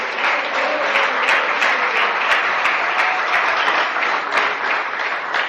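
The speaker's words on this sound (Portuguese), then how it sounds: "Palmas para Jesus, meus irmãos." A church congregation clapping together, dense sustained applause at close range with sharp individual claps standing out, no talking over it.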